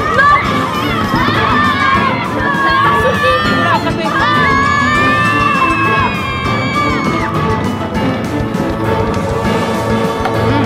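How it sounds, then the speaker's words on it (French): A crowd of people shouting and yelling all at once in a chaotic commotion, loud and continuous throughout, with children's cries and raised voices overlapping. "Pourquoi tout le monde crie comme ça?"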